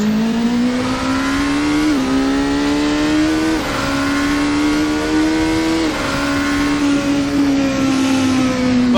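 A Cadenza V8 Polaris race car runs in Assetto Corsa, its loud engine holding a steady buzzing drone that rises gradually between a few quick dips as gears change.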